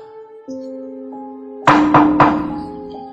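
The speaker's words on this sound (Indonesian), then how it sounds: "Ada seseorang yang mengetuk pintu rumah dengan sangat kuat, atau bisa dibilang menggedor-gedor" Three loud heavy thuds pound on a house door in quick succession, booming over steady tonal background music.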